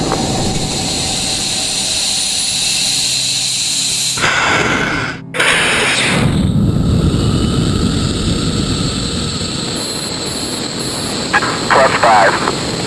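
Rocket launch after a countdown: a sustained broadband roar fills the clip, briefly cut near the midpoint and then resuming strongly, with faint radio-style voice chatter underneath.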